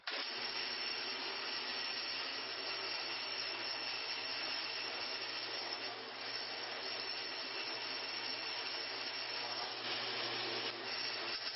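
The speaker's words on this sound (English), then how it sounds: "drill the hole through that plate too" A power drill bores holes through a metal plate while building a luggage rack for a Ninja 250 motorcycle, a loud continuous whirring grind held steadily for about eleven seconds with no pauses.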